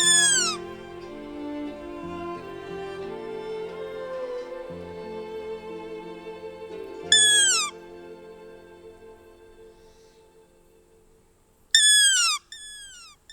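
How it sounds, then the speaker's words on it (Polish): Long-eared owl calling at dusk near chapels by protected woodland, with sharp descending whistled cries in short bursts over a sustained musical background, clear and fairly close. "W pobliżu niektórych kaplic o zmierzchu można usłyszeć pospolite gatunki sów,"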